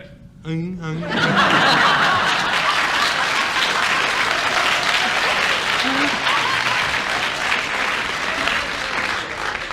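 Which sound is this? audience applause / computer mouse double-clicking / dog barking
audience applause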